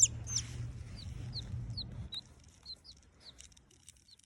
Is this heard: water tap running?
no